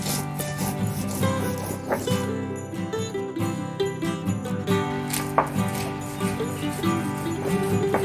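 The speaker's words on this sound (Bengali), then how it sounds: "এবারে এগুলোকে মিহি করে বেটে নিতে হবে" Chopped onion and white salt being ground into a fine paste on a stone, with a continuous close rubbing and scraping rasp in an uneven rhythm against faint background tones.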